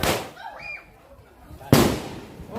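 Firecrackers go off during funeral preparations in Buntulepong, Tondon Langi', with two loud, close bangs about a second and a half apart, each trailing into a hissing crackle, while people shout and call out over them.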